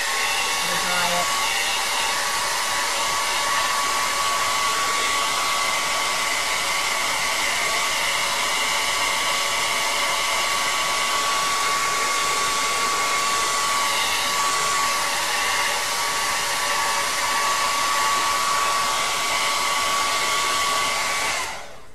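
A hair dryer blows steadily and loudly at close range for the whole stretch while drying a wet painted canvas, its constant whine unbroken until it cuts off at the end.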